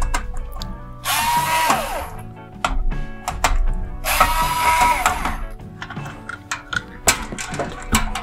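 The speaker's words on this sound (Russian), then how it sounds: "Отсоединяем наш драйвер от модулей и откручиваем его." An LED chandelier driver is being unscrewed with a power screwdriver, giving two bursts of whirring motor buzz about a second long, separated by clicks, taps and small handling knocks close by.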